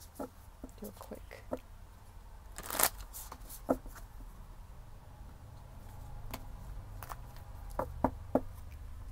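A deck of oracle cards is given a quick shuffle, scattered soft flicks and riffling snaps with a brief louder burst near the start, faint and close against a quiet room.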